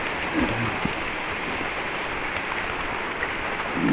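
Heavy midday rain falls steadily nearby, a dense continuous hiss of drops on surfaces with no voices.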